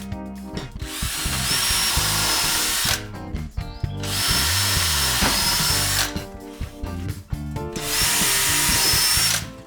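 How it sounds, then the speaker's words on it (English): A power drill with a 6mm bit whines loudly in three sustained bursts, boring straight through oak timber, with short pauses between runs and a rough grinding edge as the bit bites. "use my 6mm drill bit just to drill straight through them"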